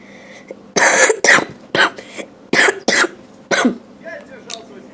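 A person coughs in a series of sharp, loud bursts with short pauses between them, close to the microphone and used in place of laughter.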